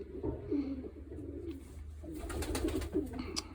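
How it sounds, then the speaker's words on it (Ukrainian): Pigeons in a loft near a nest with a chick, soft low cooing phrases repeated in a couple of bursts with faint rustling and clicks between, close and fairly quiet. "О, прекрасне голубенятко."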